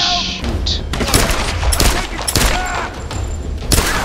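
Loud, rapid volleys of gunfire in Tomb Raider, sharp overlapping shots and booming hits packed tightly together over a few seconds, with game noise and a voice faintly mixed in.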